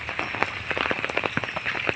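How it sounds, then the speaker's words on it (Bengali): Rain during a days-long downpour, a steady dense patter of drops on surfaces with constant hiss and many small taps, moderately loud and uninterrupted. "3 দিন ধরে একটানা শুধু বৃষ্টি হয়েই যাচ্ছে, বৃষ্টির থামার নাম নেই।"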